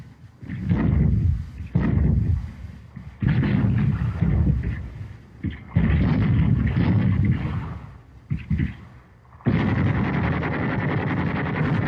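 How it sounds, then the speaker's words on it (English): US First Army armored vehicles fire their guns on a French town in 1944 wartime footage, producing heavy, repeated booms and rumbling blasts close together, ending in a sustained roar. "armored vehicles of General Courtney Hodges' First Army opened fire on the French town of Dercy"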